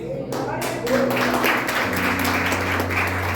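Church congregation at a Sunday communion service claps along, a brisk patter of hands under a sustained organ or keyboard tone and murmuring voices.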